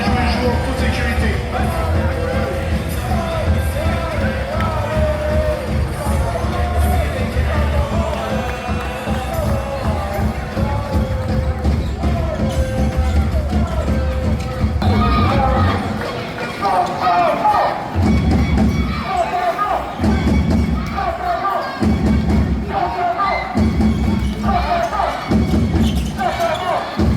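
Spectators at a French women's handball match between Le Havre HAC and Saint-Amand clap steadily, then shift into a loud rhythmic beat of synchronized claps and thuds, with crowd noise throughout.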